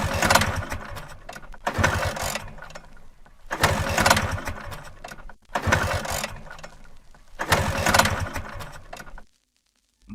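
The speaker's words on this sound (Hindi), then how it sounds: "बार बार किक मारने के बाद भी स्कूटर स्टार्ट नहीं हो रहा था।" Scooter engine repeatedly kick-started without catching, at night in a village after a long ride on a bad road: four bursts of sputtering, mechanical churning separated by short gaps, ending in silence.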